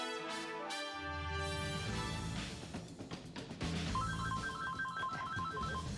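A telephone rings with a rapid, warbling electronic trill in the second half, set over steady background music during a local TV news report.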